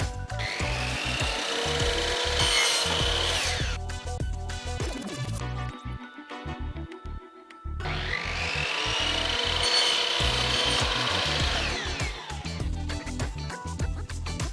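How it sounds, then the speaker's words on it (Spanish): A miter saw cuts slatted wooden wall panels, with two long, loud whining passes through the wood separated by a brief pause while the blade spins down, heard up close with no talking. "Usaremos la sierra ingleteadora para hacer todos los cortes rectos."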